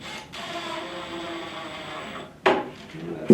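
A screw is driven into a basswood bookcase with a steady, whirring drill buzz lasting about two seconds, followed by a sharp knock and a brief second burst.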